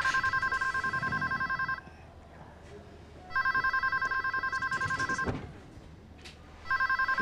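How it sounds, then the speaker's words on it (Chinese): A landline telephone bell rings in a Chinese family drama, two long electronic ringing bursts separated by a pause, with a third starting at the end; loud and close in an indoor room with faint background movement. "接电话。"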